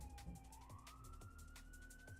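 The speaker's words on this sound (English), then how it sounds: "Sorry, there's a siren outside." Emergency siren wailing outside, a rising, sweeping tone heard faintly through walls over low background rumble and clicking.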